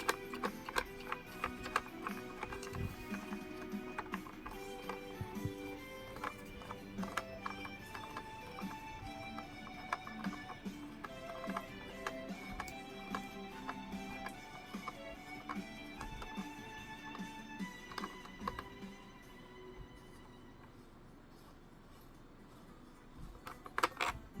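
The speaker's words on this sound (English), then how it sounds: "So now can hold this gear in place and just spin the bolt." A bolt spun into a 3D printed steam turbine puzzle, heard as a quick stream of light clicking and ticking plastic taps over a steady background hum, continuing for about twenty seconds and then quieting.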